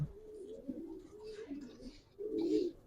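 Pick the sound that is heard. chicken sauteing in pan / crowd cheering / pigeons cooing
pigeons cooing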